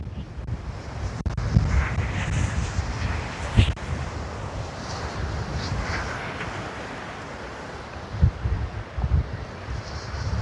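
Strong gusting wind buffets the microphone on a beach at Matagorda while surf rolls and crashes steadily in the background, with heavier gusts breaking through now and then.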